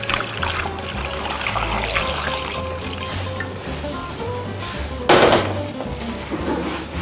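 Water is poured into a pan of turmeric-seasoned potato wedges, giving a steady trickle and splash over a busy kitchen background with clinks of cookware and a louder burst partway through.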